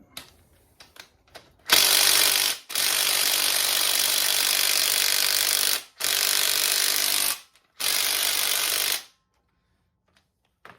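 A ratchet wrench clicks rapidly in several long bursts, loud and close, loosening bolts by hand on an LQ4 6.0 engine, separated by brief pauses, with faint taps before the first burst.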